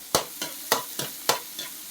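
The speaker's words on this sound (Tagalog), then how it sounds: "Sibuyas, bawang, luya. Ayan. Igisa na natin para mabilis." Onion, garlic and ginger sautéing in a pan, a quiet sizzle under a brisk series of about five scraping strokes of the spatula, close and evenly spaced.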